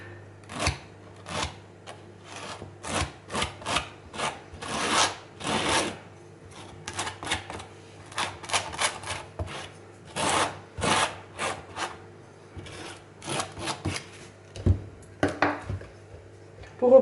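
Modeling paste being spread with a palette knife, a series of short scraping and rubbing strokes in uneven bursts, close and fairly quiet, with no talk.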